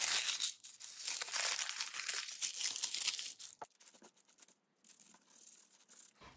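Paper being crumpled by hand to wrinkle a junk journal cover, close crackling and crinkling in bursts for about three seconds, then softer rustles and a brief pause before a last crinkle.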